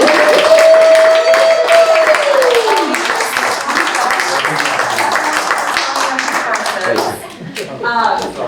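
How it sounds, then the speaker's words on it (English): A room of people at a session on adapting scripts for neurodiverse students gives a loud, sustained round of applause. A sliding whistle-like tone sounds over the start, and the clapping thins out near the end. "everyone, give yourself a thunderous round of applause."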